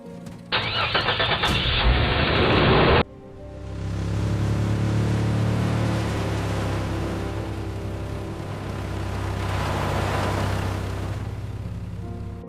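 A car engine cranks with a loud starter whir for a couple of seconds, catches, then settles into a steady, close idle that runs without any talk.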